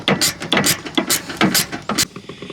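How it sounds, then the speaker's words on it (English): Socket wrench on a long chain of extensions loosening car fender bolts, giving quick bursts of ratcheting clicks in uneven strokes, close and clear, with no talking. "I'm using just a socket wrench with a bunch of extensions"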